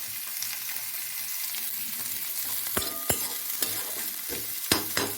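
Vegetables frying and being stirred with dried fenugreek leaves (kasuri methi), a steady close sizzle broken by sharp scraping knocks of the spoon against the pan, with no talking.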